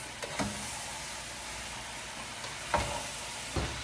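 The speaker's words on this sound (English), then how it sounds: "I am going to just stir up my apples." Apples for an apple pie stirred in a pan, giving a steady low sizzle with a few scraping knocks from the spoon against the pan.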